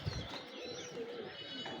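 Fancy-breed pigeons kept indoors in a room give a faint, low coo near the start, then a soft, steady background murmur with no talking.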